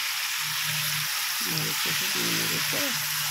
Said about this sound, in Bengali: এই চিকেনটা দিয়ে দিলাম, দিয়ে ভালো করে নেড়ে নেব